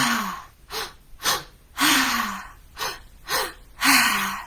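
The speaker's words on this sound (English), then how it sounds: "So those exhales are super powerful when it comes to moving stuck energy." Deep breathwork exhales during a guided session: a series of about eight forceful, noisy breaths pushed out in a steady rhythm, some with a faint voiced edge, close and loud with no talking.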